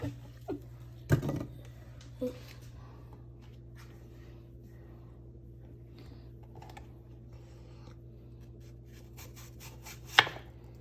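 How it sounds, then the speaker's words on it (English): A knife chops a vegetable on a board while a celebration pie is being made. A few sharp, isolated chops stand out over a steady low hum. "should we just chop that bit in half?"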